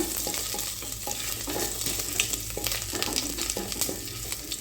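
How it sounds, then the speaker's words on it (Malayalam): Ginger fries in hot oil with cardamom, cloves and cinnamon for a Kerala-style vegetable stew. A steady sizzle is punctuated by regular scraping and clinking strokes of a spoon stirring the pan, with no talking. "ഇതിലേക്ക് ഇഞ്ചി ഇട്ട് കൊടുത്ത് നന്നായി ഒന്ന് ഇളക്കുക"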